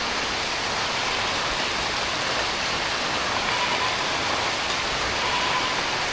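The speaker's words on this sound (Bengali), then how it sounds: "বৃষ্টি শুরু হয়ে গেছে রে আকাশে বৃষ্টি বৃষ্টি বৃষ্টি" Rain pours steadily over a village, a dense, even hiss of drops on surfaces that stays constant throughout, with no one speaking.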